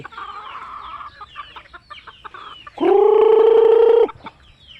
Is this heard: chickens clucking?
yes